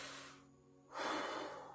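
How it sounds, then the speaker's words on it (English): A deep breath during a Reiki guided meditation, with a soft exhalation fading out, a brief pause, then a fuller, close inhalation rising and trailing off. "Take deep breaths"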